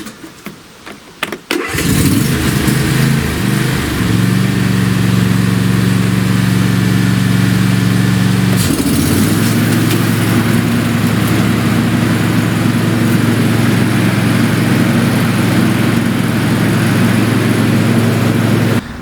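A John Deere S180 lawn tractor engine cranks and starts, then settles into a steady loud idle before the mower deck engages and the running pitch shifts, continuing close and alone.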